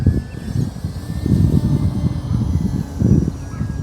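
A Bigfoot RC model plane flies overhead at Australia's largest coal port, its engine droning steadily with rising and falling surges as it passes, moderately near and fairly loud, with no talk.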